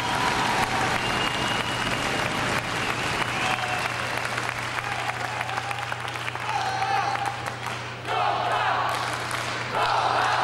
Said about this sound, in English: And the whole public is now cheering for the young lad.